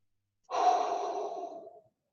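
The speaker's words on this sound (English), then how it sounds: "Here we go, deep breath in." A single deep, slow inhalation during a beginner core-strengthening workout, close and clear, lasting over a second with a soft airy hiss and no talking.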